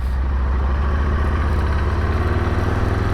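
A 1998 Harley-Davidson Sportster motorcycle engine runs close by after nine months in storage, a loud, steady low rumble with a fast rhythmic pulsing throb and no voices over it.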